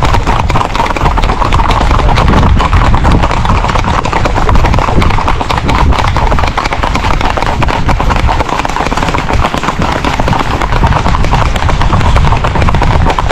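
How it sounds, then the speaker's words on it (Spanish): A large horse carries riders along a quiet country road, with the hooves clopping in a dense, steady stream over loud wind-like rumble. A faint voice surfaces now and then. "caballo grande donde nos sentamos"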